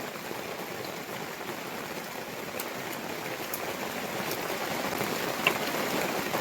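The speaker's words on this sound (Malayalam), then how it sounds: "മഴ ഇവിടെ ഇപ്പോഴും മഴയൊക്കെ തന്നെയാണ്" Rain falls steadily on a rural Kerala rubber plantation area, a soft, even hiss of drops that grows slightly heavier toward the end, with one brief sharper tap.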